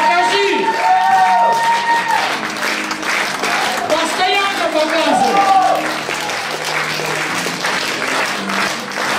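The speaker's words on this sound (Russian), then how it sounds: "Своими аплодисментами, как ты хочешь, чтобы тебя аплодировали?" An audience applauds at a live stage talk in Moscow, with steady clapping filling the room while a voice and other sounds carry over it.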